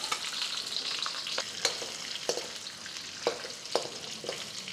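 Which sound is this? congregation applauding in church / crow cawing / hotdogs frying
hotdogs frying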